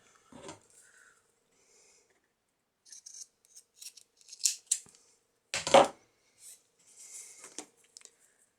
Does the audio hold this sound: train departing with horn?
no